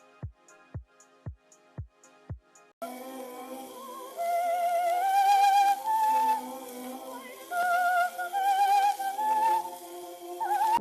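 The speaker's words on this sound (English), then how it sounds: "It was a human voice, hitting a note that seems almost impossible." A soprano sings an extremely high operatic passage, a thin piercing voice with quick trills and runs over soft orchestral backing, preceded by a few sharp rhythmic plucked or percussive hits.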